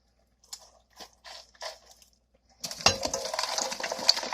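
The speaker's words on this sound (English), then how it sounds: "So now I'm going to put the rutabagas in" Frozen rutabaga pieces are dropped into a pot with ham hocks, a few soft separate clunks and then a dense, sustained clatter and sizzle as the rest tumble in, close and loud.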